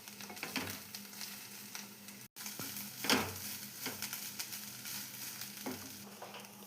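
Coriander leaves frying in oil in a pan, a close, steady sizzle with occasional stirring scrapes and brief crackling bursts, no talking.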